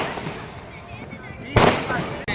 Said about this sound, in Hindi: संगे आतिशबाजी सेहो भऽ रहल छै